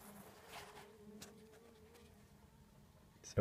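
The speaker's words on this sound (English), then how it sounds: "Still got some live bees on the hive." Live bees buzz steadily in a hive during hive removal, a thin, continuous drone, fairly faint and close, ending with a brief louder knock.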